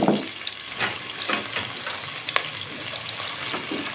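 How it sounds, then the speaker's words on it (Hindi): Sliced onions fry in hot ghee for chicken pulao, giving a steady close crackling sizzle with small pops and stirring scrapes throughout. "इसमें ये 2 अदद प्याज इस तरह कटे हुए, आप जिस तरह भी काटें, ये मैंने इसमें डाल दिए। घी थोड़ा गर्म था"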